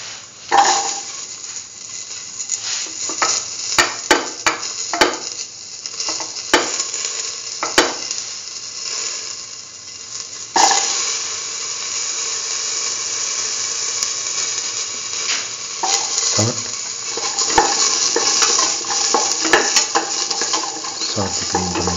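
Green tomato pieces sizzle and fry in a pan as they are stirred, a continuous close crackle broken by frequent clicks and scrapes of the utensil, rising slightly in intensity toward the end.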